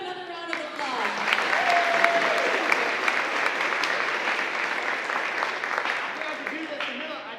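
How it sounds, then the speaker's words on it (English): Loud, steady clapping from a crowd of high school students fills a hall for several seconds, with a few cheers rising faintly within it. "Give him another round of applause."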